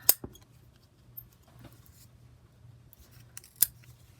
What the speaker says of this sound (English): I always cut what I can with scissors